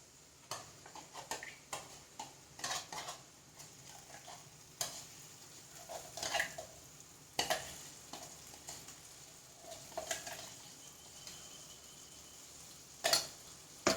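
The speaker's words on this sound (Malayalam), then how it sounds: "നമുക്ക് നന്നായിട്ട് ഒന്നും കൂടെ ഇളക്കി കൊടുക്കാം." Curry leaf paste for pickle being stirred in a pan, with a steady scrape and clack of a spoon against the metal and soft sizzling underneath, the strokes coming in irregular bursts close up.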